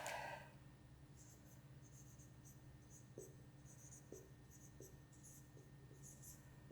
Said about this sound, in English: Or we could write it down algebraically.